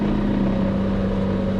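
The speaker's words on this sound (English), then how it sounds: "It sounds like a knocking engine, but it's not. It's something with the transmission" A Lamborghini Murcielago Roadster with a transmission fault pulls away, a steady engine drone with a rough, knocking-like pulsing underneath, loud and close, with no talk.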